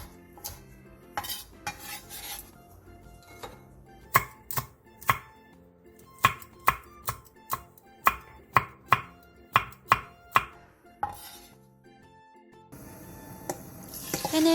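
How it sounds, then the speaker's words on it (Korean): A knife slices a third of a green onion, a cheongyang chili and a red chili on the diagonal against a cutting board: a few soft cuts, then a steady run of crisp, evenly spaced chops, close and loud with no talk. "대파 3분의 1개, 청양고추 1개, 홍고추 1개를 어슷썰게 해주세요."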